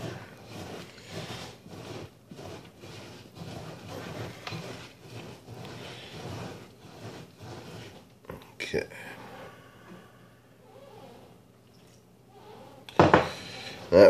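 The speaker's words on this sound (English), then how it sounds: "I'm going to take a bit of this chicken broth from the soup and I'm going to add it to my crackers to make a dough" Spoon and bowl clatter as chicken broth from a pot-pie soup is stirred into crackers to form a dough, steady clinking under continuous talk, with a couple of sharper knocks near the end.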